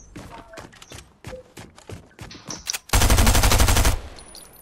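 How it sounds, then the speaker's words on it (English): Rapid automatic gunfire in Fortnite during a box-fight, a string of sharp separate shots followed by a loud sustained burst of sustained fire near the end, with a voice talking briefly. "Stop shooting me."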